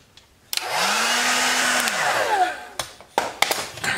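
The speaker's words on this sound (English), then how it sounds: "You just want to heat him up with a blow dryer" A steady, loud blow dryer whirs for over a second heating a plastic action figure, then cuts off, followed by a few sharp clicks and knocks.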